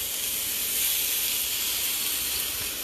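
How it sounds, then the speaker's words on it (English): A rack of lamb sears in a hot pan, giving a steady, close sizzling hiss that holds evenly from start to finish with no voices. "I'd like to sear the outside of that eye"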